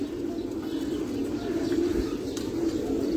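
Domestic pigeons kept on a rooftop loft coo in a steady, soft, overlapping drone, with occasional faint chirps and no talking.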